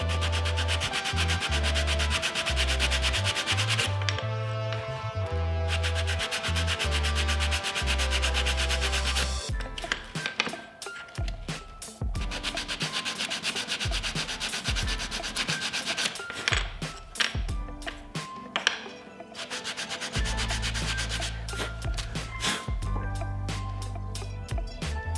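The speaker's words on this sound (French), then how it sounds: "C'est un peu trop serrant, du coup je vais... le reponcer un petit peu pour qu'il rentre correctement." Sanding a tight-fitting wooden part by hand so it slots in properly, close rhythmic rasping strokes in long runs, broken by short pauses and handling noises, with no talk.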